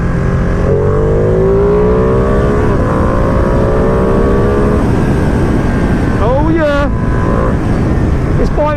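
A 2020 Ducati Panigale V2 motorcycle being ridden after its run-in, the engine droning loudly with rising pitch under acceleration, then a few quick revving sweeps, heavy wind rush and a rider speaking over it.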